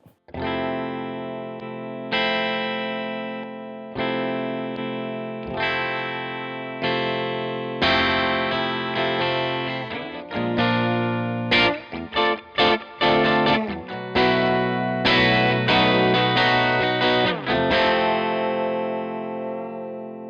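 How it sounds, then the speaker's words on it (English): Guitar through an Arturia 1973 preamp effect with slight crunch, slow sustained chords at first, then busier choppy strummed and picked phrases, clear and up front, no voices. "the 1973 preamp really gives it that just little bit of extra crunch"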